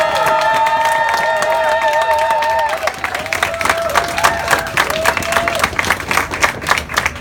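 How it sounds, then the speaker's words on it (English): A crowd at a health care advocacy rally in New England claps and cheers, loud and dense, with whistles and tonal calls riding over the applause early before it settles into scattered, uneven clapping. "can we get a big round of applause for everybody who drove over an hour from Maine?"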